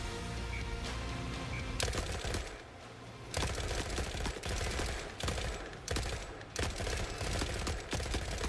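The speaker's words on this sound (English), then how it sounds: "We can actually use our head turret right now" Head turret gun firing in the video game Gunhead, rapid automatic bursts in several long strings separated by brief pauses, loud and dense.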